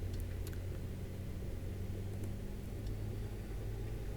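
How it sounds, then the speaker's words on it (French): An ultralight aircraft's propeller in Microsoft Flight Simulator 2020 hums as a low, steady engine drone that builds slightly, continuous and fairly close with no talk. "on entend l'hélice qui accélère là"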